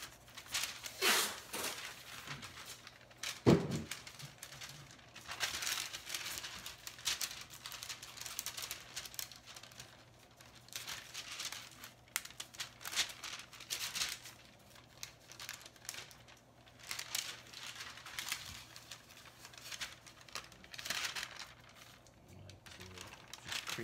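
Masking paper crumpled and creased by hand while masking kitchen cabinet bases, a steady run of crinkly rustling bursts, fairly close, with brief pauses and a sharp knock early on.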